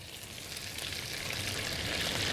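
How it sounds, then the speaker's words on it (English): Quiet, steady crackling sizzle of butter in a hot frying pan with corn kernels added, a soft continuous hiss with tiny pops. "All right, so that butter is sizzling."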